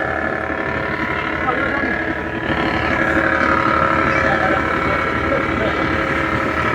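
A passenger launch runs its engine at full speed on the river, giving a loud, steady, unbroken drone with wind rush and water noise throughout.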